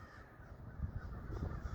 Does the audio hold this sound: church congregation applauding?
no